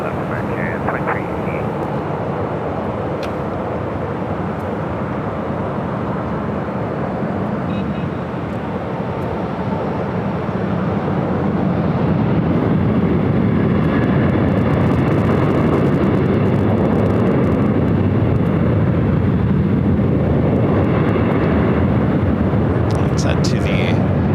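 A Delta Airbus A321neo arriving at LAX from Florida makes a steady, rising jet roar that swells louder in the second half, with airport background noise and people talking throughout.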